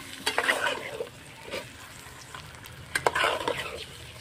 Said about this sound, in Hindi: अब इसको करीब हम भूजेंगे 10 मिनट